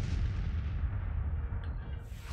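Gunfire from Whitworth rifles in the Grand Tactician Civil War video game rumbles as a dense, low, continuous barrage of booming shots, steady and moderately loud, gradually tapering toward the end.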